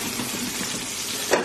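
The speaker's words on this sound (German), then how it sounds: "Aber man darf es mal eben warm machen und durchbraten in der Pfanne." Liver frying in a pan gives a steady, moderate sizzle throughout, with a brief louder crackle near the end; no voices are present.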